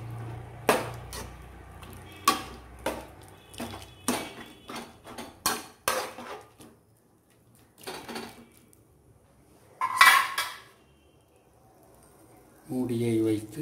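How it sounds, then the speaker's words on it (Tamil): A spoon stirs and clinks against a cooking pot of soup made with siru keerai, pazha keerai and chow chow, giving a run of sharp metallic taps that pause and then resume, mixed with a voice talking. "கிளறிவிட்டு"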